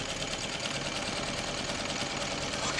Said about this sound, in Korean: 페달을 밟아서 바느질을 하면은